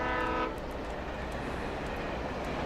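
A train in the Alan Wake video game rumbles steadily, opening with a brief horn blast before a continuous low rolling roar of the wagons.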